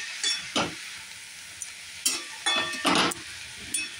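Fenugreek (methi) greens frying dry in a pan without salt, a soft crackling sizzle broken by intermittent bursts of louder hissing and stirring scrapes, close and alone with no talk.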